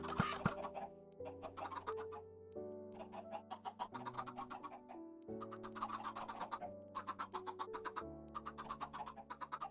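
Hen chickens cluck on a video game chicken farm, short repeated clucks pulsing steadily over a layer of stepped background tones, with no talk.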